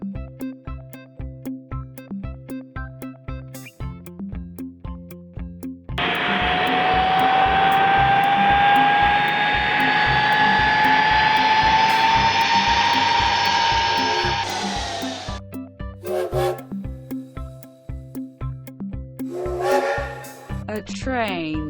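An aircraft engine roars up loudly in a steady rising whine and rush that holds for about eight seconds before dying away, set against a backdrop of plinking music.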